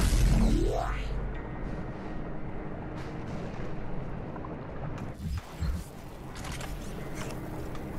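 A heavy explosion booms at the start in the Doom Eternal video game, followed by a rumbling roar and chaotic combat noise with further thuds and blasts.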